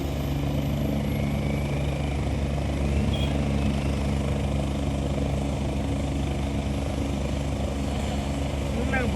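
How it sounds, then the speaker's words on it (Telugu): A helicopter drones with a steady low rotor thrum and engine hum as it flies over Srisailam, moderately distant and continuous, with faint voices of onlookers underneath. "బాగుంది ముద్దుగా హెలికాప్టర్"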